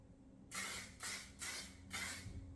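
Four short bursts of aerosol spray hiss, evenly spaced, close and fairly loud, with a quiet room in between.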